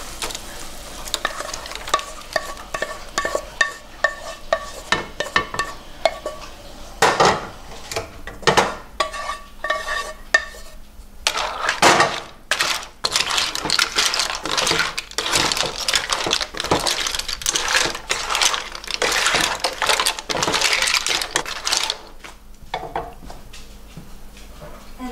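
Clams clattering and rattling in a pan with tomato sauce for clam linguine, close, busy clinks and stirring scrapes over a low sizzle, with bursts of dense clatter through the middle.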